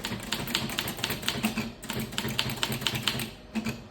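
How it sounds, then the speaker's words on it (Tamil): Manual typewriter keys struck in a fast, steady run of sharp clacks during a typing lesson, close and loud, with a short pause midway and no talking. "ஸோ இப்படி தான் டைப் பண்ணணும்."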